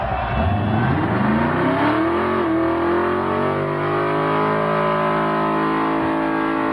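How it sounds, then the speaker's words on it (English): Engine revving loud and close during a burnout competition at Summernats, climbing in pitch and holding a sustained high roar as the tyres smoke, with no talk over it. "the next one out there smoking the tyres"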